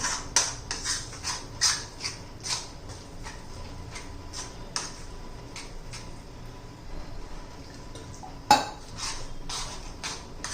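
A spoon or whisk scrapes and taps repeatedly against a bowl while besan chilla batter of gram flour is stirred smooth, giving irregular close clinks and ticks with one sharper knock near the end, with no talking.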